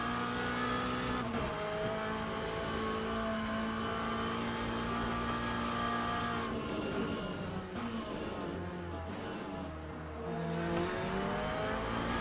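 Race cars in the Le Mans Ultimate sim, a steady engine drone with rising and falling revs as a faster car closes in, continuous and fairly loud with no talking.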